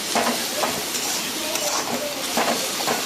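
Spices with turmeric and salt are sautéed in hot oil for an egg curry, giving a continuous loud sizzle with intermittent stirring scrapes of a spatula in the pan.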